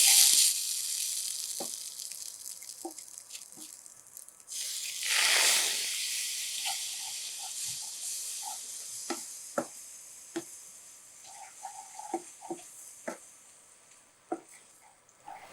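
Milk hits a hot pan for rusk halwa, a loud hissing sizzle that flares and then settles into steady frying crackle with scattered pops, close and with no voices.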